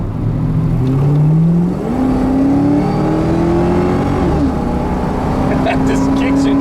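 A 2004 Ford Mustang GT with 172K miles kicks down and accelerates hard, its engine note rising steadily through the gears as a loud, close drone, with a voice talking over it.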